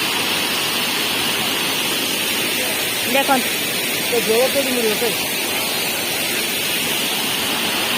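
The Sanghagara waterfall gives off a steady, loud roar of rushing water that fills the whole scene, and a short spoken remark rises briefly above it.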